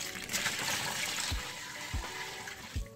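Water poured slowly onto dry peat inside a roughly 65-litre terrarium, a continuous splashing trickle with a few soft low thuds.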